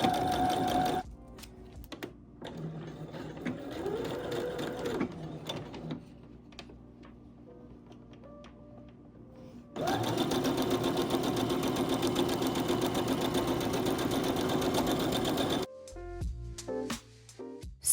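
Sewing machine stitching the short edges of denim bucket hat body pieces, a close mechanical whir in several bursts of different length, with short pauses and a long continuous run near the end.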